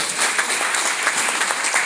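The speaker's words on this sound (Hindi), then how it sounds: "एक बार जोरदार तालियां होनी चाहिए" A packed audience at a coaching-class function claps hard, producing a dense, continuous burst of applause that fills the whole short moment.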